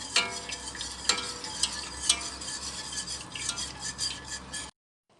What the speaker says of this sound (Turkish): Limonla nişastalı karışımımı şerbetime yavaş yavaş karıştırarak ekliyorum.